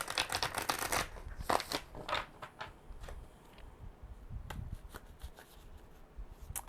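Tarot cards being shuffled by hand in a series of quick riffling bursts and softer sliding shuffles, close and fairly clear, with no talking.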